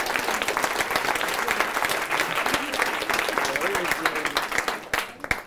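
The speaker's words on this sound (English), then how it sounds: "let's really give these people some applause" A conference audience claps in a steady, dense burst of applause that holds throughout before thinning slightly at the end, with some voices mixed in.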